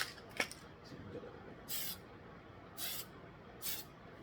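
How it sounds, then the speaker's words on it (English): Short hissing bursts of spray paint being applied to a Polar Lights 1/1000 scale USS Enterprise model, three separate blasts of about a third of a second each, close and fairly quiet, with faint handling noises in between. "spray paint. I'll hit it one more time with the right color."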